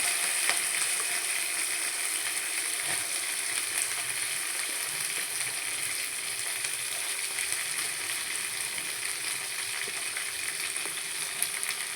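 Onions and a generous handful of curry leaves sizzle steadily in hot oil for a drumstick chicken curry, a continuous close frying hiss with faint stirring, and no voices.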